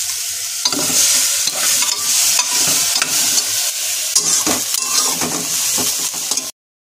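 Large pieces of bhetki fish fry in a pan, with a steady close sizzle and repeated scraping stirs, then the sound cuts off abruptly.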